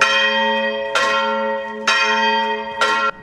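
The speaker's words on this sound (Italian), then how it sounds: "con i rintocchi della Martinella in cima alla Torre di Arnolfo" The Martinella bell atop the Torre di Arnolfo in Florence tolls three times at an even, unhurried pace, each bright metallic strike ringing on with a long hum between blows.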